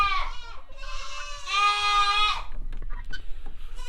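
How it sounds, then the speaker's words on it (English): Goats on a farm bleat loudly and close by, two long wavering calls in quick succession followed by scuffling and quieter movement. "The goats are being mighty mouthy."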